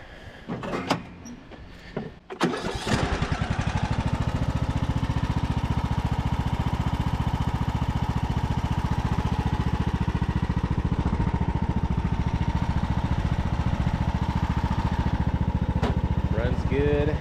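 Craftsman YT3000 riding mower engine cranks over briefly with a few clunks, then catches and settles into a loud, steady, close-up idle that runs continuously with no talk.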